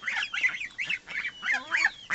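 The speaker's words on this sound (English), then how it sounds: "every once in a while you can hear that good strong honk of an adult goose." Five-week-old Brown Chinese goose goslings honk and squeak in a quick series of close, nasal calls, about eight short bursts in two seconds, with no other sound between them.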